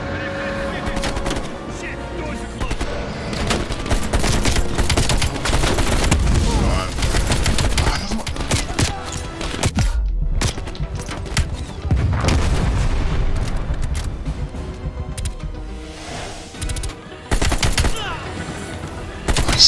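Gunfire in the video game Call of Duty: Black Ops Cold War: dense, loud bursts of automatic fire and sharp single shots with occasional booms, continuous and near, under brief bits of a player's voice.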